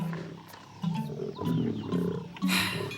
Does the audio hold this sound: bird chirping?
no